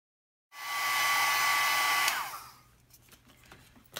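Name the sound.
heat gun drying stamped ink on photo paper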